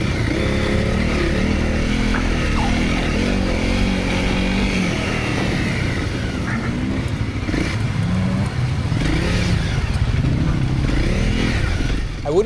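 A Honda CRF250L or CRF300L dual sport motorcycle revving high while riding enduro through cornfields, its engine loud and close, rising and falling in pitch with throttle changes throughout.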